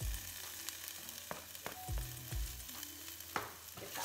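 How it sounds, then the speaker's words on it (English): Garlic and deseeded cut chilies sizzle softly in olive oil for a vegan curry, with a quiet frying hiss under several distinct scrapes and knocks of a spoon stirring in the pan. "And then I'm gonna add two deseeded chilies cut."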